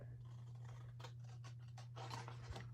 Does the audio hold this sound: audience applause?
no